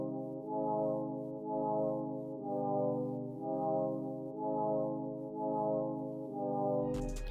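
Sustained synth chords from the Cymatics Apex one-shot kit in a Hungarian minor progression, layered stacked tones changing in a steady pulsing rhythm, ending with a brief bright click.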